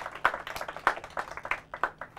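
Scattered hand claps from an audience applaud Team Kalpana Chawla at a quiz event, a thin, uneven patter of individual claps, fairly quiet and sparse.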